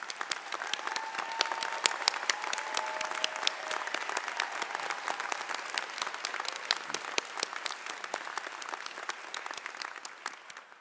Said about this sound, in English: So please join me in applauding